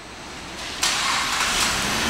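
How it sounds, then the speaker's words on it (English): A 2010 Cadillac SRX engine fires up by remote start, with a sudden burst at ignition that settles into a steady, fairly loud idle close by, with no voices. "And the car starts right up."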